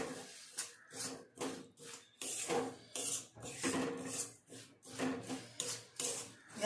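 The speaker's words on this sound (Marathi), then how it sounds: "आणि तीळ घातल्यानंतर पटकन मिक्स करून घ्यायचे." A spoon stirs sesame seeds quickly into hot tilgul jaggery mixture, giving close, repeated scraping and rubbing strokes in an uneven rhythm, with no talking.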